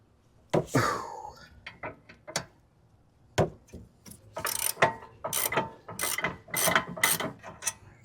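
A ratchet clicks in short bursts while the caliper bolts come loose on a Lexus RX330/350 front brake, with sharp repeated ratcheting pulls separated by pauses, close and fairly clear.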